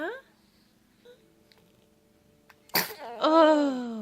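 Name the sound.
baby sneezing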